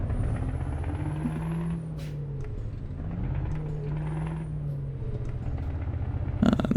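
A truck maneuvering slowly in a tight yard in Euro Truck Simulator 2, a steady low diesel engine rumble that rises and dips as the rig turns, with a brief hiss near the end.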